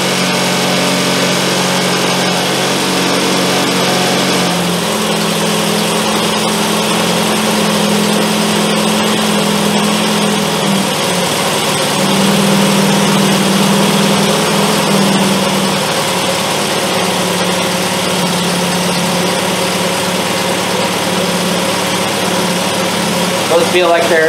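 A Triumph Spitfire's small carbureted engine idles steadily, loudly and somewhat high, its revs shifting slightly, with a voice speaking over it at times.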